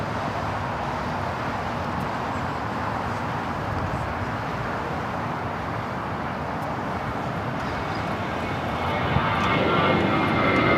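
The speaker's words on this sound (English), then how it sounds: "This is Spirit Airlines 449 taking off to Atlanta on the A320." Taking off from LAX, a Spirit Airlines Airbus A320 jet bound for Atlanta gives a continuous broad engine roar at moderate distance, swelling slightly louder near the end.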